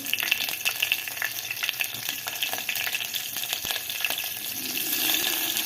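Chopped onion, cumin and green chilli fry in ghee in a pan, a constant crackling sizzle up close with occasional spatula taps and scrapes.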